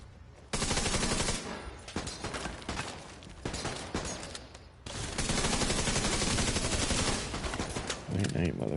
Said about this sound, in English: firing right through this guy.